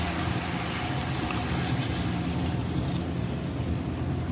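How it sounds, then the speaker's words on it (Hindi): Water is poured into a pot of kidney bean curry in a home kitchen, a continuous hissing trickle that holds steady throughout, with no talking. "और अब इसमें मैं पानी ऐड करूँगी।"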